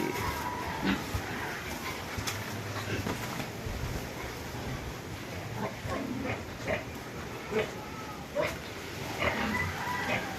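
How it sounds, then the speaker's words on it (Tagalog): Pigs in a backyard pen grunt and oink intermittently over a constant low background hum, with occasional sharper squeals and movement sounds at moderate distance. "Yan po yung aming kulungan ng baboy."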